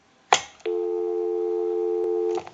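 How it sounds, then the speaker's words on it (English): A repaired Majestic brass rotary telephone plays a steady busy signal, a loud continuous tone that follows a click from the handset and stops with another click. "we'll call my number, and it'll be busy"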